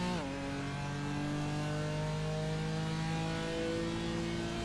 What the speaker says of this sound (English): Straight 6 single turbocharged engine in the BMW M4 GT3